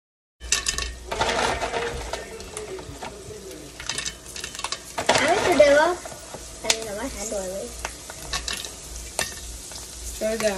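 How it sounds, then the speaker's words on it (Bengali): Snacks frying in hot oil on a home balcony, a steady crackling sizzle with stirring and occasional bird calls in the background, no talking. "আজকে চলুন এগুলো একটু ভেজে দেই"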